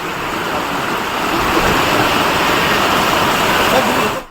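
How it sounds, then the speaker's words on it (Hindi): Swollen rain-fed stream in Ramnagar, Uttarakhand, in flood after days of heavy rain: a loud, steady, broadband rush of turbulent water, continuous and close, with no pause, fading out only at the very end. "रामनगर के सावलदी में बरसाती नाला उफान पर आ गया है।"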